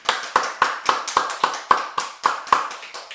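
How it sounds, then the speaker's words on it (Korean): A Korean church congregation on the Sunshine Coast claps in a steady, even rhythm of about a dozen sharp claps during a Sunday worship service. "우리를 사랑하시는 하나님께 박수로 영광 돌리겠습니다."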